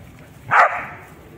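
A single sharp dog bark, close and loud, rising out of quiet background noise.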